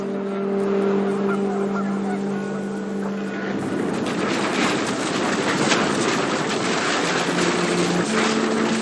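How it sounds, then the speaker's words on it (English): Honking geese in the video game What Remains of Edith Finch call out over a rushing wind-like roar, the honks overlapping and shifting in pitch. "The wind picked up and panicked geese appeared and quickly went."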